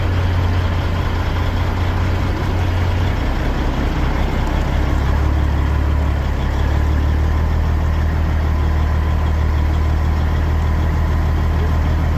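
A brand-new truck's engine runs at idle, giving a loud, steady low rumble that shifts slightly in pitch partway through and continues unbroken, with no talking.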